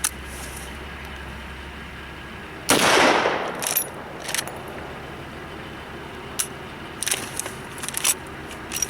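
A Winchester lever action rifle fires one loud, sharp shot. Several quick metallic clicks and clacks follow as the lever is cycled and short stroked, with quiet background in between.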